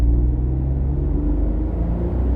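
A 2022 Mitsubishi Mirage engine pulls at throttle on a snowy road, a steady low rumbling drone with a faint whir, heard from inside the car.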